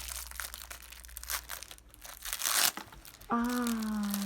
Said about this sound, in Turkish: Yırttın anneciğim poşeti